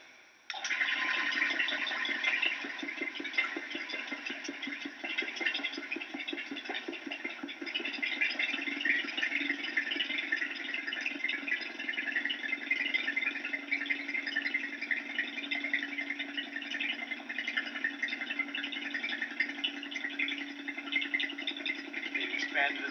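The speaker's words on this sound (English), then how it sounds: "the vacuum pump at work." A vacuum pump hooked up to a bell jar runs nonstop for more than twenty seconds with a steady, buzzing mechanical drone at even loudness, beneath faint background talk.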